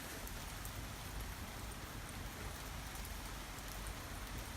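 Steady outdoor rain pours down in a dense, even hiss of drops striking surfaces, loud and continuous with no voices over it.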